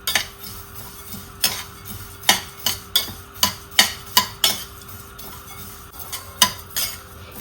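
Pumpkin and sunflower seeds roast with cardamom in a pan, the spatula scraping and clicking in a quick irregular rhythm over a faint dry sizzle, close up with no voices.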